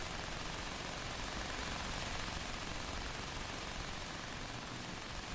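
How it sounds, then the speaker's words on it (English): Continuous, dense rattling gunfire in the video game Fallout 76, with audio stuck in a loop that never lets up, a steady wall of rapid shots at an even level with no pauses. "The gunfire audio that gets stuck."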